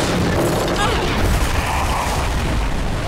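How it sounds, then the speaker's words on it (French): A loud, sustained roaring helicopter explosion in a film, with dense low rumble and crackling debris, continuing without pause for a few seconds. "Serait-il mort dans l'explosion de l'hélico?"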